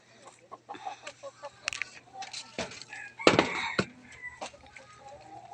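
Hens cluck and chatter close by in irregular bursts, one louder squawk standing out, with faint talk mixed in.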